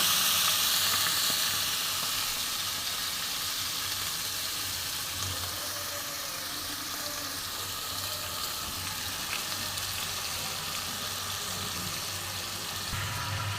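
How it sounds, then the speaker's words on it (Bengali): Spice paste hissing and sizzling steadily in a hot pan after a little water is splashed in, a loud continuous crackle and steam hiss that eases slightly after the first seconds, with no voices. "তো একটু জল দিয়ে দিচ্ছি যেন মশলাটা পুড়ে না যায়"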